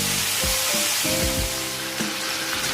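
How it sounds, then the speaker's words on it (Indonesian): Salted fish frying in hot oil over medium heat, a steady loud sizzle and crackle with brief pops and stirring scrapes, close up and with no talking. "Setelah minyak panas, kemudian goreng ikan asin."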